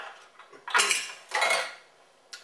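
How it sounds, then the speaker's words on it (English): A metal pot is taken out of a home kitchen setup with a couple of loud clanking scrapes of metal on metal, followed by a lighter clink. It is close and there is no talking. "Take the metal pot out."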